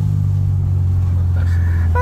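A modified Volkswagen Combi van's engine hums at a steady low pitch up close, with a brief rising rev near the end and no talking.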